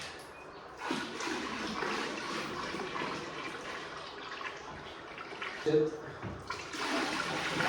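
Dirty beeswax is washed in a bucket of water, with sloshing and splashing of water throughout and a brief spoken word.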